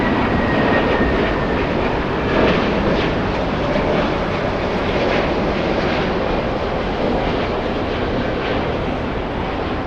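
A Delta Air Lines jet taking off from runway 25 left at LAX makes a powerful, sustained engine roar with a faint whining tone, steady and loud for the whole span.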